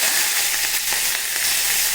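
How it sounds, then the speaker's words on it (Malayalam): Curry leaves and fenugreek seeds sizzle in hot oil with popping mustard seeds, a dense, steady close-up crackle with a few sharper pops, no voices. "കടുക് പൊട്ടി, ശകല ഉലുവ ഇട്ട് കൊടുക്കും. കുറച്ച് കറിവേപ്പില ഇട്ട് കൊടുക്കുക."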